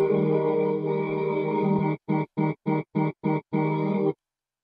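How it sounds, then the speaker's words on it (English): Processed vocal run with pitch and formant shifting, flanger and vocoder treatment, a buzzy robotic sustained tone that breaks into a rapid string of short chopped stutters before cutting to silence. "Basically, it just made the vocal sound like it was from a vocoder."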